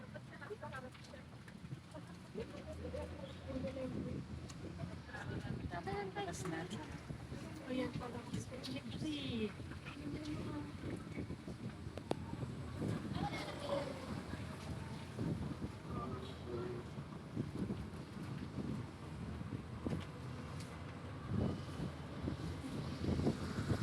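Wind rushes past a microphone on an open-air ride around a parking area near Philippine Arena, giving steady low buffeting noise throughout with engine rumble underneath and occasional faint voices.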